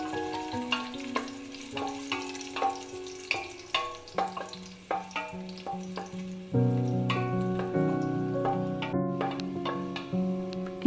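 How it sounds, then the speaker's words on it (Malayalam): Raisins fry in oil in a pan for cooker biryani. A utensil clinks and scrapes in sharp, uneven strikes, then a denser crackling sizzle takes over, close and with no voices. "ഇതിലേക്ക് കിസ്മിസും കൂടി ഇട്ട് ഒന്ന് ഫ്രൈ ചെയ്തെടുക്കാം"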